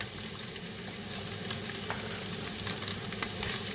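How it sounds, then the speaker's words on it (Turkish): Ground meat sautés in butter in a pan with a thick, steady sizzle and occasional sharper pops and crackles, close up and with no speech. "Tereyağıyla da böyle soteleyeceğim güzelce."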